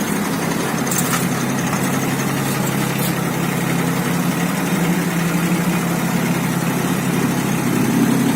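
A steady, low engine drone from a Solis 24 mini tractor driving onto a truck, continuous and fairly loud with no voices, like a small motor running in place.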